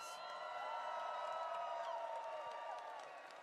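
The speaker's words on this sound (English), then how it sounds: "Can we give them all a huge round of applause, please?" Crowd at Star Wars Celebration in Tokyo applauding and cheering, a steady wash of clapping with whoops, heard faintly at a distance and fading slightly toward the end.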